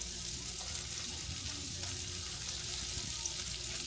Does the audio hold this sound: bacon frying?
yes